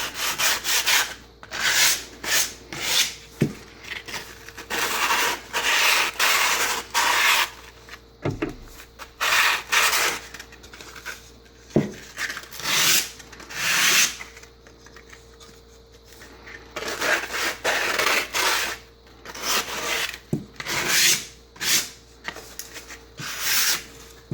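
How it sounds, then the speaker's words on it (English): Quick hand sanding along the freshly cut wooden edges and middle section of a cornhole board, a close, dry rasping scrape in repeated bursts of strokes with brief pauses, no talking. "So we're going to give this a very quick sand."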